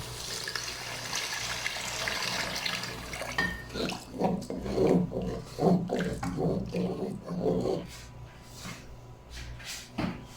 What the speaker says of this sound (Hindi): अभी हम इसमें पानी डालेंगे।